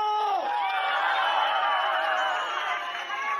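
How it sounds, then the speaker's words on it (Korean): Dense, loud crowd roar with cheering and clapping at an outdoor election campaign rally for the Democratic Party's Lee Jae-myung and candidate Park Soo-hyun in Gongju, Buyeo and Cheongyang, South Chungcheong, during the 22nd general election. The roar is continuous and fills the whole stretch. "여러분 다시 한번 뜨거운 박수와 함성을 함께 해주십시오"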